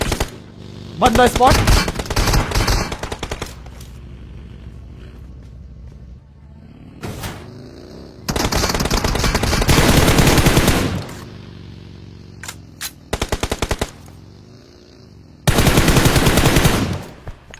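M416 rifle fire in PUBG comes in three long, loud sprays of rapid automatic shots separated by quieter gaps with short bursts and single cracks, and a brief spoken phrase occurs between them.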